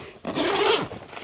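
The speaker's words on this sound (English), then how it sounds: "The floor does zip off," A zipper is drawn open once in a quick, close rasping pull as the floor of an inflatable hot tent is zipped off, heard alone with no talking.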